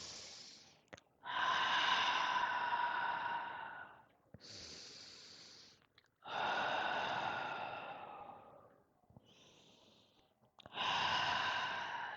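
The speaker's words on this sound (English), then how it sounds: "So let's take 3 deep breaths together." Three deep, slow human breaths taken during a guided new moon meditation, each a long, loud exhale near the microphone separated by quieter inhales, with no talking.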